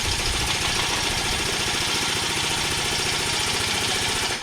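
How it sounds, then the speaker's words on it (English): A shop air compressor runs with a steady, loud mechanical drone and fast rhythmic pumping throbs, close by and continuous with no talking. "I'm sure my compressor will kick on."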